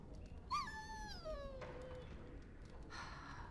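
A dog in Dragon Age Origins whimpers in a rising then falling whine, with a second softer whimper following, all faint over a quiet background hum; no speech.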